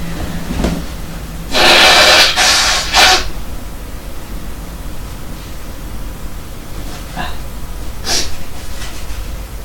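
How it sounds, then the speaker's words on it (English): Someone blows their nose in two loud, breathy bursts, then follows with a few fainter sniffs and snorts, close up in a quiet room. "I will blow my nose real quick."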